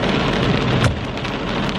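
Heavy rain pours down steadily at close range, a loud continuous wash of drops with one brief surge partway through and no voices.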